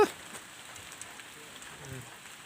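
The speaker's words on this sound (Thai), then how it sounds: "บรรยากาศกับฝนตกจังเลยนะฮู้" Rain falls outdoors with wind at a rural spot where fish traps are set, a soft continuous patter with a brief louder burst at the start.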